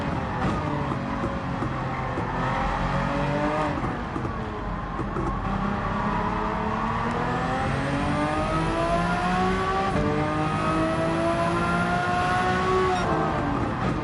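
Group C race car engine in the Gran Turismo 7 video game, a steady loud drone with rising and falling pitch sweeps as it accelerates and shifts, continuous throughout with no talk.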